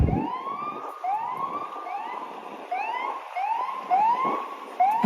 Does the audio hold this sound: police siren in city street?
yes